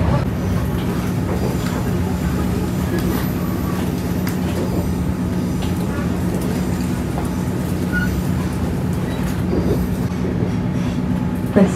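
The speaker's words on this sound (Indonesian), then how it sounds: "Sesaat lagi kereta api Panoramic akan melintas langsung jembatan Cisomang." A Panoramic passenger train runs on the rails near the Cisomang bridge, with a steady, loud rumble of wheels and carriages and faint clicking and squeals throughout.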